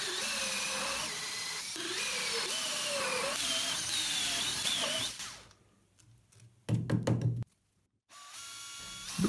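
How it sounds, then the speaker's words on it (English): A power drill whines in bursts as it drills holes in a piece of plastic, its pitch rising and falling as it bores, then stops; a brief louder grinding burst follows after a pause. "I made a simple holder by drilling 6 holes in a piece of plastic."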